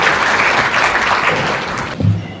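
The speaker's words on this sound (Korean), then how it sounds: "힘찬 박수 한번 더 보내주시기 바랍니다." Loud applause from a crowd at a farmers' forum founding ceremony, many hands clapping densely before tapering off, with a brief low thump near the end.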